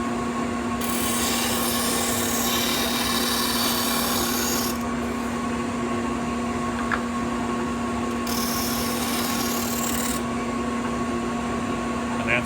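A Shopsmith disk sander grinds wood held freehand, a steady hum under a continuous scratchy rasp that swells twice as the workpiece is pressed to the disk.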